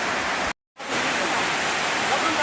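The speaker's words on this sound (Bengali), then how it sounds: "খিচুড়ি রান্না হইতে হইতে হঠাৎ বৃষ্টি, চরম বৃষ্টি।" Heavy rain pouring down outdoors at a picnic cooking spot, a dense loud steady roar that cuts out briefly near the start and then resumes unchanged.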